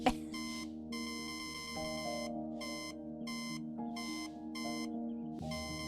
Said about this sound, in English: Do not hear the alarm clock?